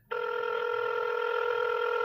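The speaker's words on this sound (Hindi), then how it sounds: "इतना बोलकर उसने अपना फोन निकाला और तुरंत शिवाय का नंबर डायल किया" A phone rings with a steady electronic tone that starts abruptly and sustains evenly without pause, heard alone and fairly clear.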